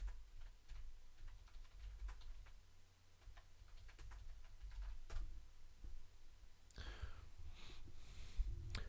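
Someone types on a computer keyboard: faint, irregular key clicks tap along at a quiet level, with a burst of louder rustling near the end and no talking.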